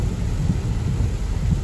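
Heavy rain pours outside during a thunderstorm, a dense, loud, unbroken roar with deep rumbling underneath throughout.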